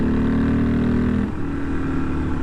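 A Harley XR motorcycle engine roars loudly and continuously as the bike accelerates, with a low rumbling drone and a gear change partway through, heard alone without talk.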